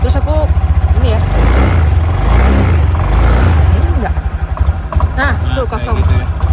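Honda Beat scooter cold-starting and being revved, its engine droning loudly throughout with throttle rises and dips, while a person talks over it.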